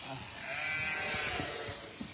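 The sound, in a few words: sheep bleating during shearing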